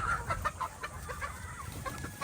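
Young gamecock (stag) clucks in a run of short, moderately close calls, with soft farm background and no talk.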